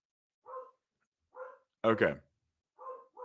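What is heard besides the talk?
dogs barking in the background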